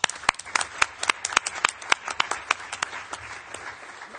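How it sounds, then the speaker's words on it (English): A small crowd applauds, sharp claps rising and fading in a steady patter for a few seconds. "join me in giving the first panel and our special guests a warm applause"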